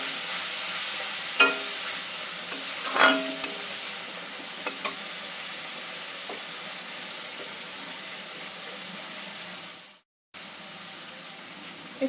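Spices with turmeric powder fry in hot oil while being stirred for a cauliflower curry, a moderate steady sizzle with a few scraping clinks early on that fades, briefly cuts out and returns.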